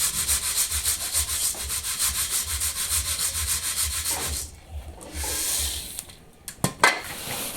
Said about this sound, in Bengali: এই যে দীপা এদিকে মুড়িগুলা চালিয়ে নিচ্ছে।